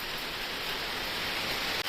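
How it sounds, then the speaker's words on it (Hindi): Heavy rain pours down steadily in a dense, even hiss on the road to Nathula Pass near Gangtok, loud and continuous without a break. "वही बहुत ज़्यादा बहुत तेज बारिश हो रही है"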